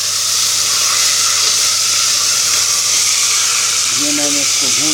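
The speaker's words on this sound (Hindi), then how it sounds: "मैं इसको केकड़े के गोश्त को भूनूंगा" Crab meat frying with ginger and garlic in a pan, giving a loud, steady hiss and sizzle throughout, with a brief voice near the end.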